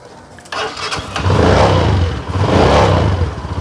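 A used motorcycle, a mileage-friendly commuter bike offered for resale, starts up and runs, its engine catching after a brief crank and settling into a steady, loud, close-up idle with no talk over it.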